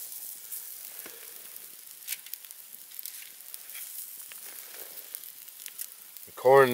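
Bread toasts in a pan over a winter campsite stove with a faint, steady sizzle and light crackles throughout, ending with a brief louder tonal burst.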